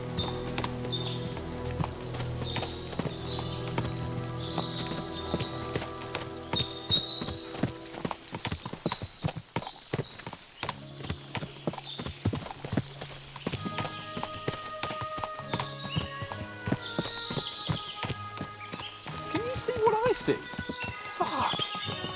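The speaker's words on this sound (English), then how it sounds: "What a lot of horses!" Many horses clip-clop steadily in the video game Kingdom Come: Deliverance II, hooves thudding close and continuous with whinnies rising over a musical score and someone talking.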